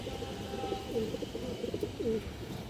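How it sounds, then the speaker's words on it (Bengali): Jabra pigeons with red markings coo softly in repeated low, throaty phrases among a pigeon collection, close by with faint background noise. "এগুলো ভাই জাবরা কবুতর, লাল গিয়ারের।"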